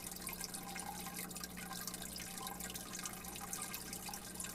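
Water being changed in a simulated discus aquarium with plants, heard as a steady, close wash of running and trickling water with faint drips, continuous for the whole stretch, with no voices.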